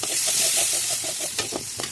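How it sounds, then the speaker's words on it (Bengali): Onion, green chilli, salt and ginger-onion paste frying in lightly heated oil, a steady close sizzle with rhythmic stirring scrapes and a few sharper clatters near the end. "হালকা গরম তেলের ভিতরে পেঁয়াজ দিয়ে দিলাম, কিছুটা কাঁচামরিচ দিয়ে দিলাম"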